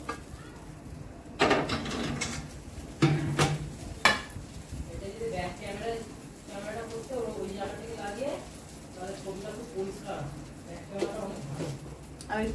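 Prawns sizzle in a frying pan for a pumpkin-leaf dish, with scraping and clinking as a utensil stirs against the metal. A voice talks over the cooking throughout.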